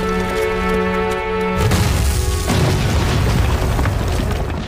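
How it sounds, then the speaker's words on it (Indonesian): A bomb detonating in a war film set against the Japanese army: after a sustained tonal passage, a loud deep boom bursts in and rolls on as a dense rumbling roar for several seconds, with no talk. "sebelum mengaktifkan peledak di"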